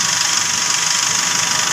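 A Nissan NV350 van engine idles steadily, a loud, constant mechanical hum with a bright hiss on top and no voices.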